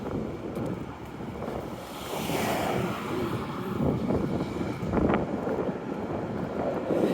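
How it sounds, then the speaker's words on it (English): Gusty wind rushes and buffets against the microphone outdoors on Gottingen Street, swelling louder midway and staying strong, with no voices. "Windy here too."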